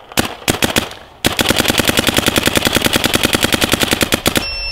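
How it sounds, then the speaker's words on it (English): Dye M3+ paintball marker firing, a few quick shots and then a long, very rapid steady string of loud, close pops. "I'm pretty positive she was shooting hot that entire little clip."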